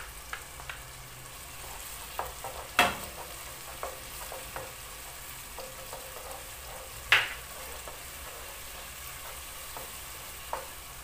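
Tomato paste stirred into tomatoes frying in a pan for matoke, a green banana dish, giving a steady soft sizzle with occasional scraping stir strokes and two sharper clacks of the spoon against the pan.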